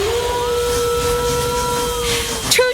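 A ghost-train ride's steam whistle blows a sustained multi-tone note lasting over two seconds over a steady hiss, ending with a brief sharper burst.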